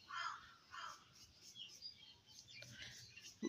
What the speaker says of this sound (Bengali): বাইরে খুব সুন্দর পাখির কিচিমিচির আওয়াজ শুনতে পাচ্ছি